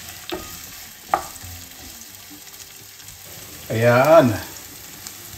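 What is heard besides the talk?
onions and red chili being sautéed in a pan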